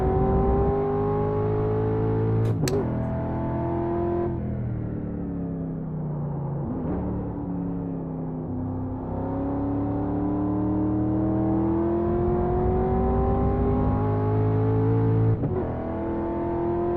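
A street stock race car on a road course in a racing video game drones loudly and steadily, its engine note rising and falling with throttle and gear changes, with brief clicks and no talking over it.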